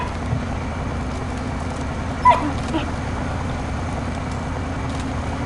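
A small dog gives a single short, sharp yip over a steady engine-like hum, followed by a fainter second yelp a moment later.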